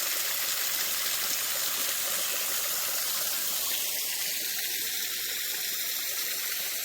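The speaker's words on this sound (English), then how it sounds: "it looks like there's another waterfall right there" A waterfall stream rushes along the Natchez Trace, a steady broadband hiss of flowing water that holds constant and close throughout, with no voices.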